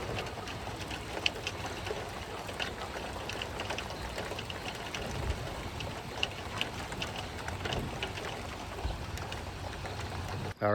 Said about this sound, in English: it started to rain a lot more